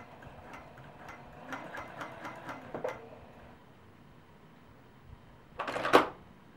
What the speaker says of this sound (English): now I'm going to sew on the line between A3 and A4